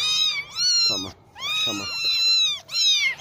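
Tiny kittens abandoned by their mother and kept in a cage meow loudly and close, several high drawn-out cries in quick succession. A short spoken word is heard between them.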